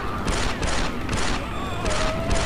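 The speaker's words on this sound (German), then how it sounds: "Dafür haben wir unsere Pistole." Pistol fire in the Star Wars Republic Commando video game, with several evenly spaced sharp shots ringing out over a dense, loud background of game combat noise.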